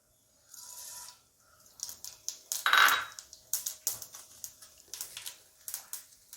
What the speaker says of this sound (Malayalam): എണ്ണയൊന്ന് ചൂടായി വരുമ്പോഴത്തേക്ക് നമുക്ക് കടുക് ഇട്ട് പൊട്ടിച്ചെടുക്കാം.